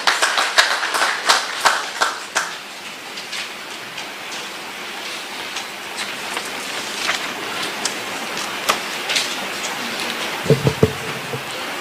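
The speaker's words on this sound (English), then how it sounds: "Please let's clap for him as he comes." Meeting audience of political party executives clapping, starting with loud distinct near claps that settle into a dense, softer patter before a few sharp claps and a low thump near the end.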